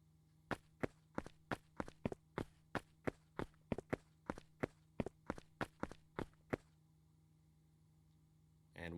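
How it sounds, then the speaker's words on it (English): Game footsteps from an Unreal Engine 5 MetaSound in a dungeon level, about twenty sharp, evenly paced steps over a low steady hum, ending abruptly before a brief faint sound. "if you play the animation, it should play the footstep sounds in sync"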